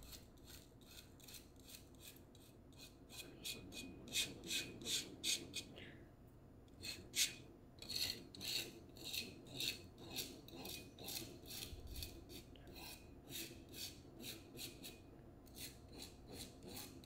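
A metal palette knife scrapes salt crystals off a dry watercolor painting in a run of short, gritty rasping strokes, close and fairly quiet, briefly pausing before the strokes resume.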